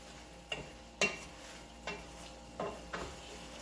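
Garlic shrimp in a frying pan, stirred with a utensil: several distinct clacks and scrapes against the pan at uneven intervals over a quiet low sizzle, close by with no talk.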